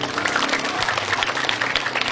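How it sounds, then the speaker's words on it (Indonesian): A crowd at a lighthearted religious sermon claps together, a busy, fairly loud patter of hands that runs without a pause and with no speech on top. "Tepuk tangan untuk rakyat."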